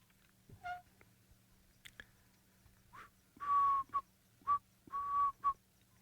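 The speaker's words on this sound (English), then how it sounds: "Cape turtle dove." Several short, clear Cape turtle dove calls ring out close by, each a bright repeated phrase, over a quiet outdoor safari background with a few softer chirps and clicks.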